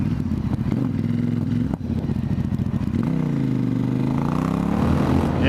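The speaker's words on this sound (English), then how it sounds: "The motor makes a nice crackling noise" A Ducati XDiavel S with a Termignoni exhaust rumbles close by at idle, then its throaty note rises and sags through a smooth rev with a faint crackle, alone with no talk.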